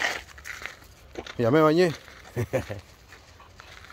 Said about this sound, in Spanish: Ahí están los perros. Son amistosos.